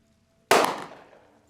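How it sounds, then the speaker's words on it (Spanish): A single sharp gunshot cracks out of near silence, loud and close, then rings away in a fading echo. "El cuerpo del oficial Raimundo Rodríguez cayó fulminante después de escucharse aquel disparo."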